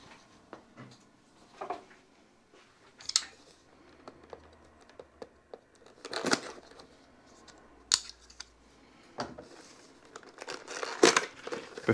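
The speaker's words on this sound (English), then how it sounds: "And I see we need a knife to open it." Blade slicing and tearing through a cardboard box holding a budget drone, with crinkling packaging, scraping cuts and sharp rips arriving in short separate bursts close by, no talking.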